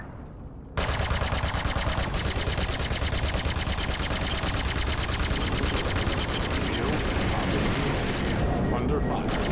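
Rapid automatic gunfire from a ship in the space combat game Star Citizen, a loud, dense stream of shots that bursts in abruptly after a brief quiet moment and keeps hammering continuously to the end.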